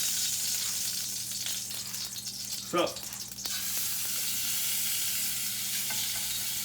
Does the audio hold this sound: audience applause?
no